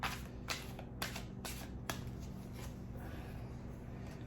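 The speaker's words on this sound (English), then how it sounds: "let's pull another card for them" Tarot cards are shuffled and drawn by hand, with a series of soft, crisp riffling snaps at roughly half-second intervals, quiet and close, over a low steady background hum.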